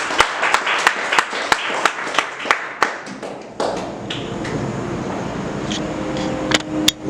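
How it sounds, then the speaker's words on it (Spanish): Congregation at a church service claps in a slow, steady beat, a dozen sharp close claps, then the clapping fades into a low room hum and hiss with a few scattered claps near the end. "Denle un aplauso a Cristo, al Dios vivo."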